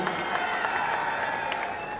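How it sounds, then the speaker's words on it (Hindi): Crowd applause at a BSP and INLD political rally, a thick continuous wash of clapping from a large outdoor gathering with a faint cheer underneath. "उनके लिए भी जोरदार तालियों से मैं गड़गड़ाहट से स्वागत चाहता हूं।"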